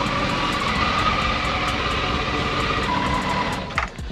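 A 2023 Campagna T-Rex 14RR three-wheeler engine runs at a steady idle. The loud, even drone holds throughout, with a brief dip and shuffle near the end.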